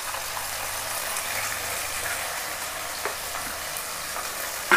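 Cooked rice for curd rice is stirred and mixed in a pan with green chilli, curry leaves and asafoetida after the flame is turned off, giving a steady soft scraping and shuffling texture with no talk.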